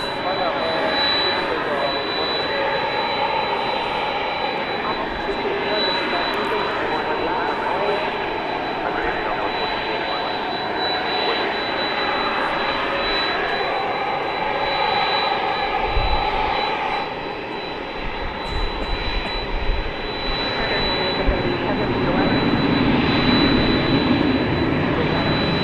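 A Land O'Lakes jet comes in to land at DFW Airport at night, its engines a loud, continuous broadband roar that fills the whole stretch, with voices talking faintly underneath.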